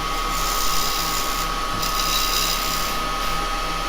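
Square carbide tool cutting a wooden skull bowl on a lathe, a steady high-pitched whirring scrape with a constant motor hum underneath, close and continuous with slight pulsing.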